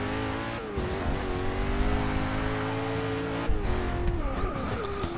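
Koenigsegg Agera track car lapping Daytona Sports Car Circuit, its engine a loud, sustained high-revving drone with gear shifts and pitch drops, heard from on board and close, with no talk.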